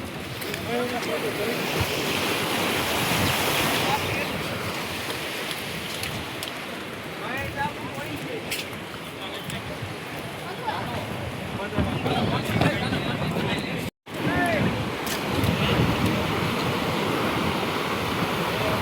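Loud, continuous rush of a wide river swollen by heavy rain fills the scene, broadband and steady, with wind buffeting the microphone and a brief dropout near the end.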